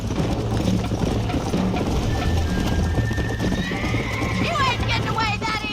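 A horse in the Red Dead Redemption video game gallops with a steady run of clip-clop hoofbeats and lets out a loud whinny near the end, heard under constant game music and ambience with a voice briefly present.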